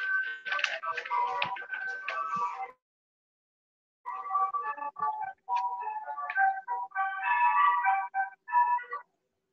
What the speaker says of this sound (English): I had an ice cream truck and somebody back there.